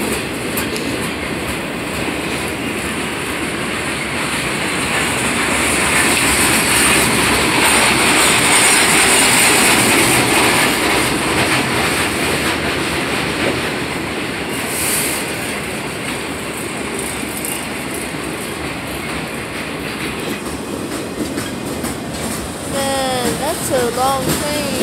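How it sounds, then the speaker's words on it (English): A long Union Pacific freight train of boxcars rolls steadily past close by at Alpine station, wheels clattering and rumbling continuously, with a brief squeal near the end. "That's a long train."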